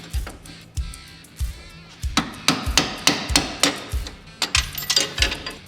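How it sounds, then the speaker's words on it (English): A punch struck with a hammer taps a stuck bolt out of a RZR XP 1000 steering rack mount, a series of sharp metallic clanks, slow at first then quicker and steadier, close and loud, with no talk. "take a punch and a hammer and just tap the bolt out"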